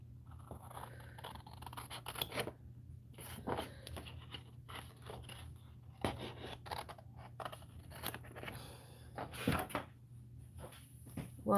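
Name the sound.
cutting out a paper figure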